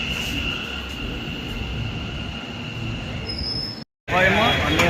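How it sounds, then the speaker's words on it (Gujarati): A metro train rumbles steadily with a high squealing whine from the wheels, then a brief dropout before a louder rush of motion. "આ મેટ્રો આવી છે આમાં અમારે બેસવાનું છે"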